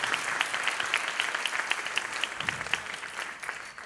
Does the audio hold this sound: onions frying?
no